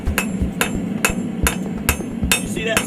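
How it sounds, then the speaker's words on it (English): A hand hammer's round face strikes a steel knife blade on the anvil while forging a Scagel-style knife: seven sharp, ringing metallic blows land close by at a steady pace of about two per second. "Let me use the round part of my hammer to start forging"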